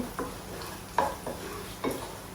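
Cardamom pods, cloves, star anise and a little ginger sizzle softly in oil in a pan, with three or four distinct scraping stir strokes spaced across a steady frying hiss.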